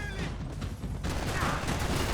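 A dense fusillade of gunfire in the video game Max Payne 3, loud and continuous for about two seconds, with overlapping shots and mechanical clatter.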